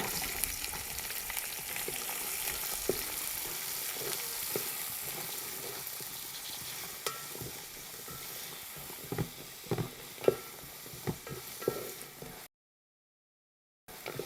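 Around three hundred shallots fry in a pan with hot garlic for a beef dish. A steady, moderate sizzle runs with sporadic stirring clicks and scrapes, then cuts to brief silence near the end.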